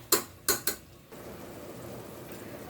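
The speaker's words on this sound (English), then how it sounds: "Continuously keep on stirring in the ghee and get the brown texture." Mutton browning in ghee in a pot, stirred with a metal spoon: three sharp scrapes and clanks against the pot near the start, then a steady soft sizzle for the rest.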